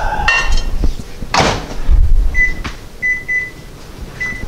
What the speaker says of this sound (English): So 3 minutes in the microwave.